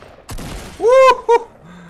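Gunfire in a Fortnite Battle Royale match: a sharp crack comes first, then two ringing, tonal shots land close together, loud and close, ending with a short tail.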